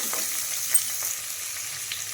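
Onions sizzle and crackle steadily in oil in a pan, soft and close, with a few light clinks and stirring scrapes, while making poori masala.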